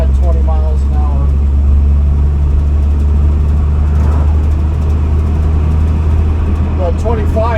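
A car engine labours in third gear at about 20 mph, giving a loud, steady low rumble heard from inside the vehicle. Someone talks over it at times.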